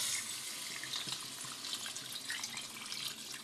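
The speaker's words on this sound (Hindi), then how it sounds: "तकरीबन 2 से 3 गिलास हम इसमें पानी डालेंगे।" Water runs steadily into a cooking pot for a potato and pea curry, a continuous close splashing stream with no voices.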